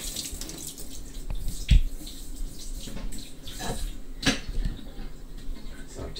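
Tap water runs into a kitchen sink during a rinse, a steady close splashing with a few louder knocks and clinks of items against the basin.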